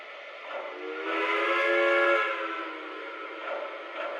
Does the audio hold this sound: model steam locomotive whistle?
yes